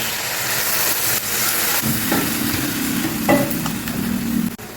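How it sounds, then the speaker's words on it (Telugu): Soaked tamarind juice poured into a sizzling pan of sweet bitter gourd curry: a close, steady hiss of frying that surges as the liquid goes in, with a bubbling tone partway through and a sharp clink near the end. "చింతపండు ఇలా నానబెట్టుకున్నాం కదా ఈ రసం తీసి ఇందులో పోసేయండి"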